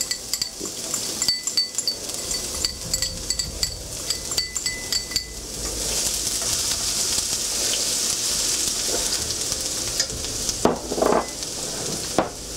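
Garlic and ginger hit hot peanut oil in a pan and sizzle steadily up close, with utensil clinks and stirring scrapes against the pan throughout.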